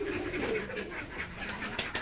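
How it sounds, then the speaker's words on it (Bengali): Pigeons at a village pigeon farm in Betikhola, Keshabpur, Jashore, cooing and stirring in a steady close chorus with a few sharper wing or call bursts near the end. "আমি আজকে আবারও কবুতর ফার্ম হাউস কবুতর খামারের ভিডিও নিয়ে হাজির হলাম আপনাদের মাঝে"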